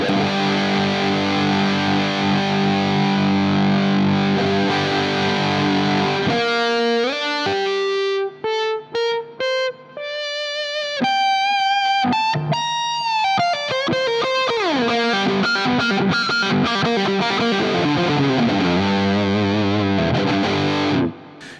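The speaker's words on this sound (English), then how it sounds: "It's a big muff in front of the amp." Thick, fuzzy distorted electric guitar through a Big Muff fuzz pedal into a Marshall JTM45-style amp, sustained chords that break into a run of choppy single notes, then sliding, saturated lines, loud and upfront.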